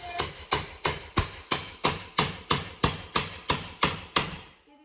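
Twelve sharp hammer blows on a crowbar ring out at a steady, even pace during a dining room remodel, each with a metallic decay, close and loud, with no talking.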